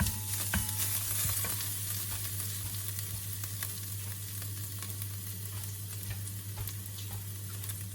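Diced pork cubes stir-fry for Isan larb with northern curry paste, a soft steady sizzle broken by a few clicks of the spatula against the pan, with no voices.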